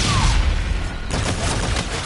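Hip-fire gunshots in the Call of Duty: Infinite Warfare video game ring out as a loud, dense run of rapid blasts, swelling into a heavier burst of shots in the second half.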